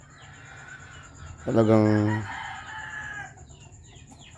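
A rooster crows once loudly and close by, a long rising-falling call, with hens clucking softly around it; a person speaks briefly in the background.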